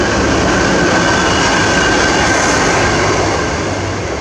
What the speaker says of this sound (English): And here's a train rolling by.